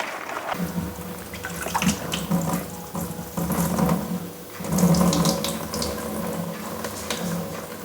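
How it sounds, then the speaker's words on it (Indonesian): Water pours off wilted vegetables into a sink while kimchi is made, a steady rushing splash that swells and eases, close and fairly loud, with no speech. "kita buang dulu airnya"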